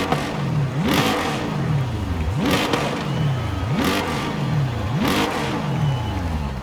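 A Lexus race car engine in Forza Horizon 5 revs again and again in a steady rhythm, pitch sweeping sharply upward with each rapid rev, loud and close, with no voices.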